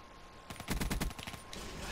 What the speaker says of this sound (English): Can you hear gunshots? That sounded extremely close.